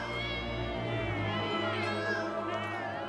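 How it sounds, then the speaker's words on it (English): Cartoon cats in a village of cats in an animated fantasy series meow in drawn-out, wavering cries over a constant background tone, close and continuous. "A village of cats."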